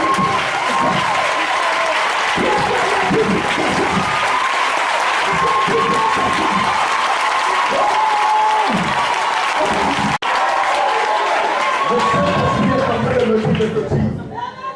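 Sustained applause from a church congregation keeps going, with cheering, chatter and a voice talking over the clapping throughout.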